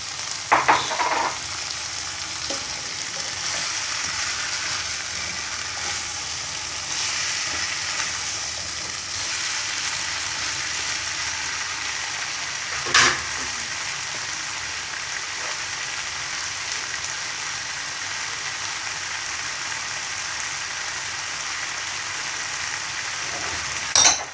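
Mixed vegetables frying in a pan after carrots are added, a steady loud sizzle that runs without break, with a few sharp clinks and stirring knocks, and no talking.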